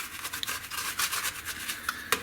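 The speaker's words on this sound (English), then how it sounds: "we'll go ahead and just kind of brush the backside of this" Quiet scrubbing strokes of a brush on the back of a 25-inch K7400 arcade monitor circuit board, short rhythmic bristly rubs, close and soft.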